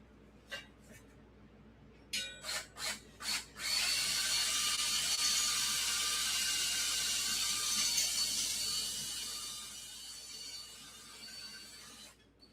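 A few short clicks, then a power drill whines steadily at a high pitch for several seconds drilling out a rivet on a Huffy bicycle, slowly fading, fairly quiet.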